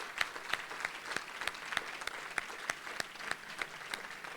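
An awards evening audience applauds its honorees with steady, moderately distant clapping and a few sharper individual claps standing out at an even pace.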